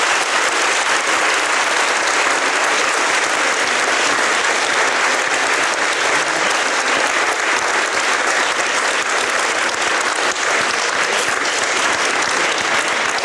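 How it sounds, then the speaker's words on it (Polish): A debate audience in a hall claps steadily and loudly for the participants, a dense unbroken wash of applause lasting the whole stretch with no talk over it. "Proszę o brawa dla uczestników naszej debaty."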